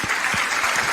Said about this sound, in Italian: Facciamo di nuovo un applauso per Claudio